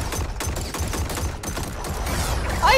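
Rapid automatic gunfire from Mortal Kombat 11, a dense fusillade of quick crackling shots rattling continuously, with a brighter effect at the very end.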